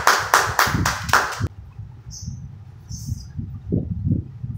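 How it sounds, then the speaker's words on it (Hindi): A group of people claps hands at a family gathering, a quick rhythmic burst of about a second and a half that stops abruptly, followed by quiet murmuring. "बहुत सारी तालियां"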